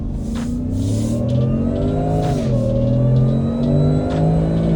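A 2023 Ford F150 Shelby truck accelerates hard onto a highway, its engine note climbing steadily through gear changes with a brief dip mid-pull, loud and close from inside the cabin with continuous road noise beneath.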